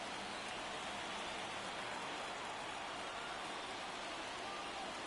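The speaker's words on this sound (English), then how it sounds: "A little bit more hail falling, a little bit more lightning" Hail falling during a game in MLB The Show 24, a steady dense hiss of countless tiny impacts, even and unbroken, fairly faint and with no one talking.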